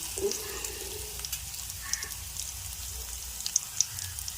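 Mustard seeds sizzle and crackle in hot oil after cumin and fenugreek go into the pan for tempering. The soft frying hiss runs steadily, and a few sharp pops stand out. There is no talking.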